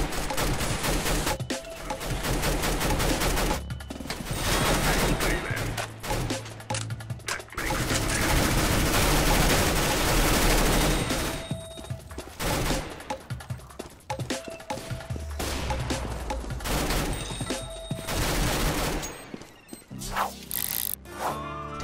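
An AUG rifle fires in the video game CS:GO after a buff to its fire rate and recoil: rapid automatic bursts, loud and close, separated by short pauses and a layered game background.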